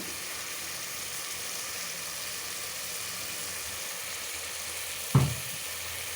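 Oil sizzles in a cooking pan, a constant broadband hiss held at an even level throughout, with one sharp clack of a utensil or pan near the end.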